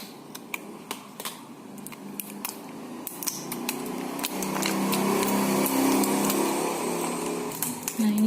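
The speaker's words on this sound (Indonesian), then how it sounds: "Ntar ya pakai gunting." Scissors cut through tight plastic packaging on a lipstick box, a run of sharp, quick snips and crinkles close by that give way to steadier rustling and plastic handling, with no talking.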